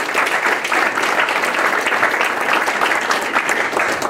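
Loud, sustained applause from a symposium audience after speeches, many hands clapping in a thick, even roar that holds steady from start to finish.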